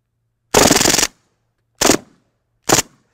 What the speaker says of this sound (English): The idea is to see how many of these I can get through with one burst.